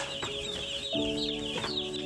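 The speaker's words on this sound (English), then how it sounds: "These are 10 days old chicks." Ten-day-old broiler chicks on bedding cheep steadily in a dense, continuous chorus of high chirps close by, with no talking.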